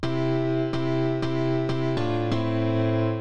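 A sustained synth chord on a Novation Launchkey Mk4 keyboard set to its widest chord-spread preset, several rich stacked chords changing in quick succession, loud and steady with no talking.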